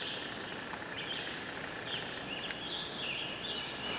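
Birds call on and off in a spring woodland, thin chirps and short warbling phrases sounding at a moderate distance over a steady, faint background hiss. No one speaks.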